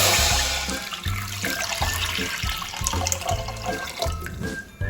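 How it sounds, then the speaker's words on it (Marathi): Water poured into a kadhai (wok) to boil rice for a Malvani prawn biryani, a steady, fairly loud splashing pour heard close up with no talk. "त्यासाठी मी एका कढईमध्ये पाणी घालते"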